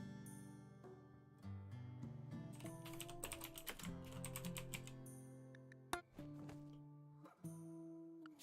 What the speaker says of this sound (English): Clickety keyboard as always.